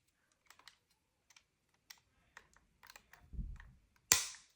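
Plastic parts of a Darth Vader model kit being pressed together, producing a few small sparse clicks and taps followed by a rustling handling thud and one sharp, louder snap as a piece clicks into place, close and quiet with no talk.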